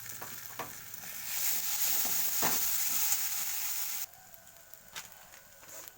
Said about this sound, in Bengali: আমি একটু জাস্ট তেল অ্যাড করছি